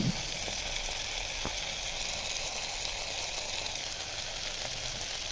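Vegetables and potatoes frying in hot oil for vegetable pulao, a steady close sizzle with faint stirring clicks, continuous and even with no talking.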